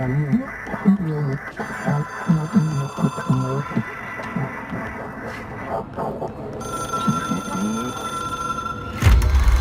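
In the video game Control, a phone rings with electronic tones mixed into a busy layer of other game sounds, ending in a sudden low thump.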